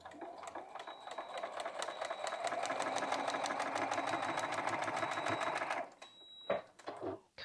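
A sewing machine stitches a paper-pieced quilt block in one steady, rapid run of needle strokes lasting several seconds. It then stops, and a few close clicks and handling sounds follow.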